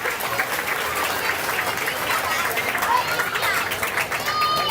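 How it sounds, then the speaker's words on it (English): A county fair grandstand crowd at a mutton bustin' event applauds steadily for several seconds, with cheering voices and chatter mixed into the loud clapping. "Now give that man a round of applause."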